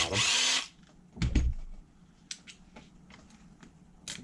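Power drill whirring briefly as it backs out screws from a differential cover on a truck, one loud close burst followed by scattered small clicks and taps of parts.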